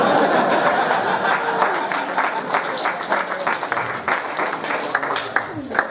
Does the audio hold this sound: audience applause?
yes